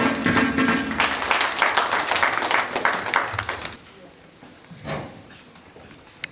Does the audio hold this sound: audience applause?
yes